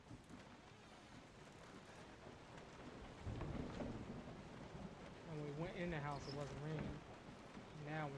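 Rumbling thunder and steady rain wash through a stormy scene in the Resident Evil 7 video game, a broad continuous roar with a swell partway through, while someone talks over it.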